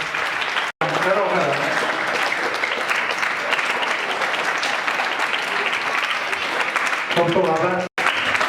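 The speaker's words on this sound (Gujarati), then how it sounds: "જોરદાર તાળીઓ" Steady, loud applause fills the gathering at a cricket academy felicitation in Hanol, while a voice talks over it at the start and again near the end.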